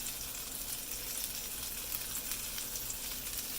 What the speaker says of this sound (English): So you're really only kind of frying the egg.